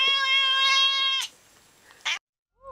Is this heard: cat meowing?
yes